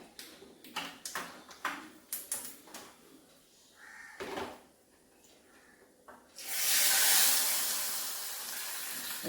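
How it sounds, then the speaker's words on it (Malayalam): A few soft clicks and knocks, then a loud, steady crackling sizzle of mustard seeds popping in hot oil bursts in and continues. "നമ്മുടെ കിച്ചടിക്ക് നമുക്കങ്ങ് കടുവ് വറുത്തേക്കാം"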